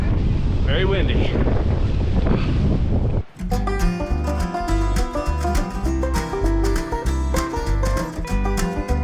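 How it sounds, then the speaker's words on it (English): Strong gusting wind on an open Tour du Mont Blanc mountain trail buffets the microphone in a loud, continuous roar for about three seconds, then abruptly gives way to music that carries on to the end. "Very windy."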